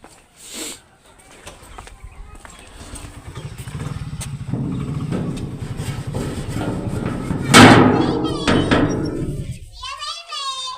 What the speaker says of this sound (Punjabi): ਤਲਹਾ ਮੋਟਰਸਾਈਕਲ ਕੱਢਣ ਡਿਆ ਤਲਹਾ ਮੋਟਰਸਾਈਕਲ ਚਲਾਊਗਾ